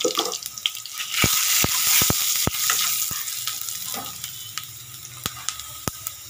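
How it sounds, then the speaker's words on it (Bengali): Half a spoon of cumin seeds sizzle in hot oil in a pan alongside fried onion, a steady close frying hiss broken by sharp clicks and taps of a utensil. "জিরেটাও ভাজা হয়ে গেছে"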